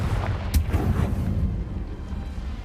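A Confringo fire-blast spell cast in Hogwarts Legacy, one sharp burst near the half-second mark over a low rumbling backdrop that fades out.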